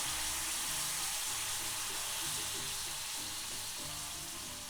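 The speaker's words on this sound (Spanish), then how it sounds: "Ponemos toda nuestra cebollita. Esperamos a que se acitrone muy bien mientras la movemos." Chopped onion sizzles steadily in a hot pan for a cooking demonstration, with a dense, even frying hiss and soft scraping as it is stirred, fairly close and alone without talk.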